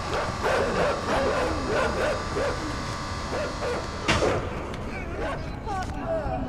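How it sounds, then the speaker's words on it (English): Dogs bark repeatedly in the video game INSIDE, a run of sharp yaps and yelps over a dense, droning game soundscape, fairly close and steady throughout. "These are some very brave dogs."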